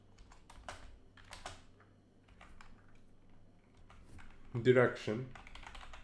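Keyboard typing while entering code in a beginner game-programming tutorial, brisk clusters of key clicks running under a man's speech, with a louder burst of keystrokes near the end.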